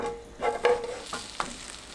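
An egg tortilla sizzles softly in a frying pan just after being flipped, with a few brief scraping and crackling bursts over a faint, steady fry.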